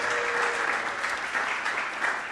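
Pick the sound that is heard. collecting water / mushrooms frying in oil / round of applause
round of applause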